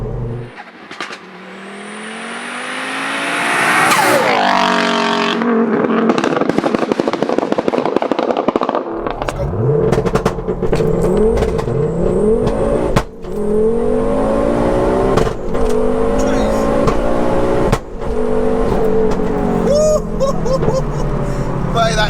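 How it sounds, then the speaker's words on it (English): A 530bhp big-turbo Ford Focus ST converted to manual four-wheel drive launches hard and is flat-foot shifted through the gears, its engine rising and cutting sharply between shifts with loud pops and bangs, close and aggressive, with no talking. "Launching this manual 4-wheel drive car and then flat foot shifting it through the gears"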